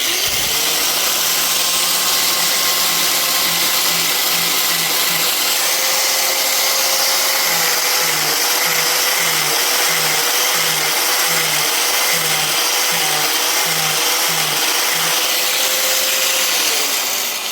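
A power tool grinds down the rubber tread of a tire, a loud continuous whine with a rhythmic pulsing hum as the grinder works, steady and close for the whole stretch with no talking.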